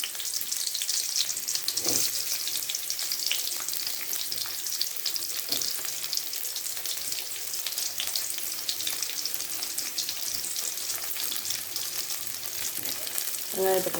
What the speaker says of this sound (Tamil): வெங்காயத்தை போட்டு நல்லா வதக்கிக்கோங்க